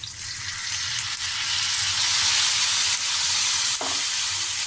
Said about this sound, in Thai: 炒一炒佢